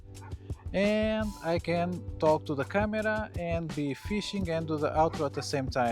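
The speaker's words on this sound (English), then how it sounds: "Sorry for the dog barking" A dog barks and yips repeatedly near a fishing spot, its sharp calls cutting in and out under continuous close talk from a person speaking to the camera.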